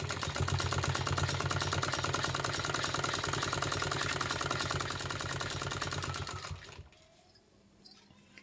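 A sewing machine stitching a straight seam on a sleeve gives a steady, close mechanical chatter for about six seconds, then stops, leaving faint handling noises.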